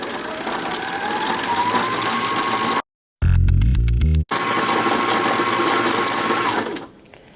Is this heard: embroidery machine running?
yes